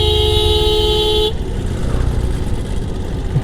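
A vehicle horn on a road blares as one steady, loud tone for just over a second, then cuts off, leaving rumbling engine and road noise.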